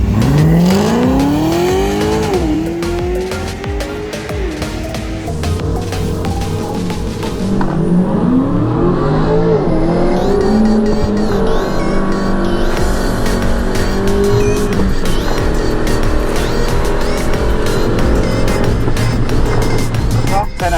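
Race cars lapping a track, with engines revving and shifting through gears close by and tires squealing, a loud, continuous roar that carries on for about twenty seconds.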